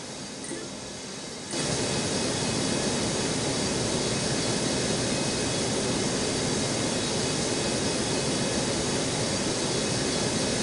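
A jet airliner roars on the runway at Newark airport, a loud, steady broadband rumble that swells in after a quieter opening and holds without a break through the rest of the stretch.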